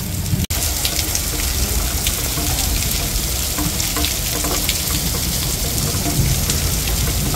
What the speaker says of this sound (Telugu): వాన ఎలాంటి వాన పడుతుందంటే మీరు ఒకసారి అబ్జర్వ్ చేస్తే తెలుస్తుంది, అన్ని వడగల్ల వాన